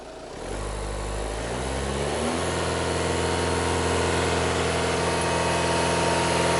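An Audi A4 engine with a clogged DPF climbs from idle and is held at about 2,500 RPM, a loud, close, steady drone that rises over the first two seconds and then sustains, with no talking.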